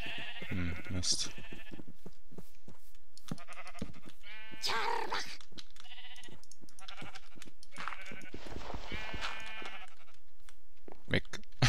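Sheep bleat in a Minecraft Pixelmon game, several short wavering calls scattered across the scene, mixed with clicks and frequent German talk.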